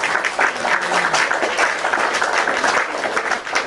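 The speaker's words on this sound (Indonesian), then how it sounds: "Tepuk tangan dulu, aplaus buat beliau semangat" An audience at a public talk claps together in a dense, even wash of applause that holds steady from start to finish.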